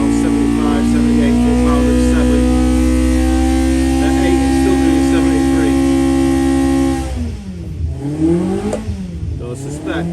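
A Hillman engine with a misfire runs on a dyno. It holds a loud, steady, close drone with strong low harmonics, then its pitch wavers and dips as it revs down and picks up near the end.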